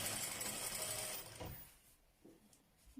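Sewing machine stitching a ruffled hem on crinoline for a baby dress, a quiet, fast mechanical whirr that runs for about a second and a half and then stops, leaving a few faint clicks.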